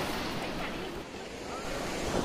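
Sea waves break against the groyne at Azhikkal beach, making a continuous roaring wash of surf mixed with wind buffeting the microphone, loud and steady throughout.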